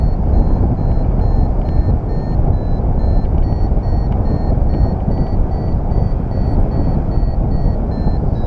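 A paragliding variometer on a tandem flight beeps in steady, regularly spaced high electronic tones, signalling climb or descent, over a constant loud rush of wind.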